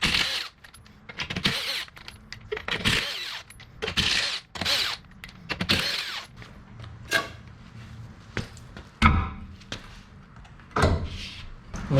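A wheel is pulled off a jacked-up second-generation Dodge Ram 1500 RWD truck, producing a series of loud metallic clanks, scrapes and ratcheting knocks in irregular bursts at close range.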